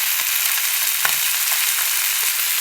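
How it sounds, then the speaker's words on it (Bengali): Small fish frying in oil in a pan for a Bengali meal, a dense close hiss of sizzling with a couple of faint taps, steady and unbroken, no voices. "এই যে দেখো, মাছ ভাজা বসিয়ে দিলাম।"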